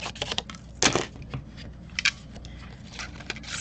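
A handheld paper punch snaps through cardstock to cut out strawberry shapes, giving a few sharp, close crunching clicks spaced irregularly with quieter rustling of paper between them.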